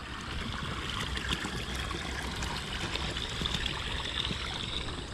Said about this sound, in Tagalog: Lakas ngayon ng tubig.